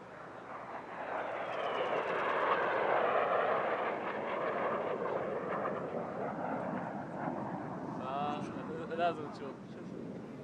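Six military jets fly an airshow display at the World Defense Show 2026, producing a broad, swelling roar that peaks and slowly fades as they pass, with a voice talking over the noise.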